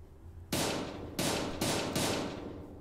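Gunfire from a video game weapon aimed at a statue, three loud sharp shots after a quiet start, the second and third close together, each leaving a ringing decay, with no talking.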